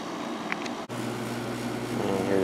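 A White Westinghouse window air conditioner running and blowing cold air, giving a steady close hum with a low motor drone and an airy fan rush that briefly cuts out and then resumes.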